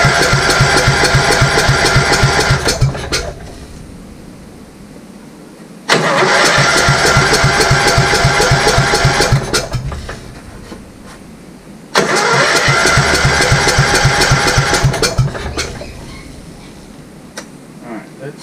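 A Goodall Chargall engine, left sitting in a field for years, is cranked with the choke on and throttle wide open, firing up loudly three times, running for several seconds each time before cutting out between bursts.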